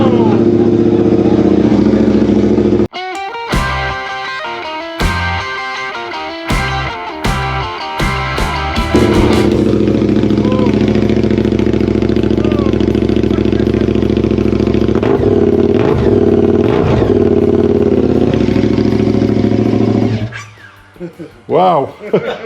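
A KTM motorcycle, a 2023 model, is started at the button and fired up out of gear; intermittent cranking bursts give way to a loud, steady idle with blips of revving that runs close and dominant until it cuts off near the end.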